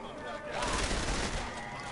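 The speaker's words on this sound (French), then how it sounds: "un petit coup de lance-roquette, on n'en parle plus" Rocket launcher firing in the video game Saints Row: The Third, a loud rumbling blast with a dense noisy roar that swells and holds for about two seconds.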